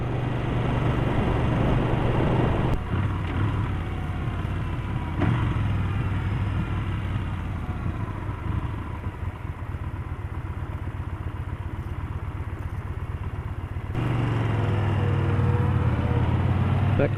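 A Yamaha Bolt motorcycle rumbles steadily while being ridden, its engine a continuous low drone with the pitch shifting slightly as it goes, with no talking over it.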